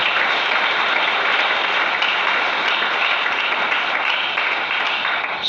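A church congregation applauds in a dense, steady roar of many hands clapping together, loud and sustained from start to finish with no voices on top.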